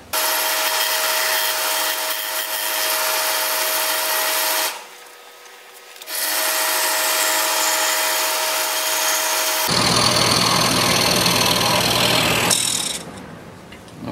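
A bladed power tool cuts a counterclockwise curve: a loud, steady buzzing whine runs close, drops away briefly partway through, resumes, then shifts to a rougher, harsher cutting tone before stopping.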